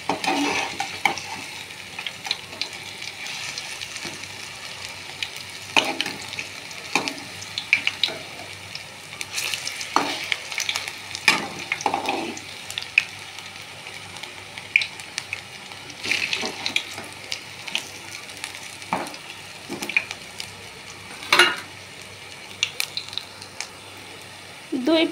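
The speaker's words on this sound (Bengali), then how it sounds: "তেলটা গরম হওয়ার পর একে একে পাকোড়াগুলো ভেজে নেব" Leaf pakoras fry in hot oil, a low steady sizzle broken by sharp clicks and scrapes of the spatula as pieces are turned, close by with no talk.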